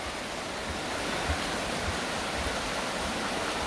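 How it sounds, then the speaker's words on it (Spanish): The Diamante river flowing full, a steady broadband rush of moving water that holds an even level throughout, close and continuous with no voices. "Y ahí el río del Diamante, que en verano lo verán más chiquito, pero en invierno está caudaloso."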